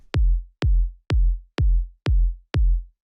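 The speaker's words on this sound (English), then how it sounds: "The next thing that we have here is the kick, which sounds like this." Six deep, punchy piano house kick drum hits, tuned down one semitone, in an even, steady rhythm, each with a short click and a low, booming tail, played alone.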